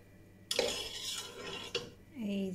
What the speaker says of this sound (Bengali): তাই আমি এখন একটা চাকনি দিয়ে ছেঁকে নিতেছি, এটার মধ্যে ঢেলে দিচ্ছি।